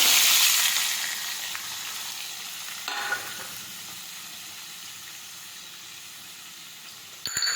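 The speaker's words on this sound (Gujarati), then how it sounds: "હવે આપણે સાતળી દઈશું હવે આપણે ટમેટા સમારેલા નાખીશું" Chopped tomatoes sizzle in a hot pan with crushed garlic, a loud broadband frying hiss that fades slightly, broken by a couple of stirring scrapes near the end, with no talking.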